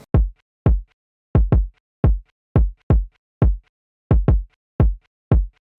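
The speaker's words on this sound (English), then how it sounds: "I just played this very simple kick pattern that ended up sounding like this." An overdriven kick drum plays a simple, sparse hip hop beat pattern alone: punchy, booming hits in irregular pairs and singles with silence between them, loud and close.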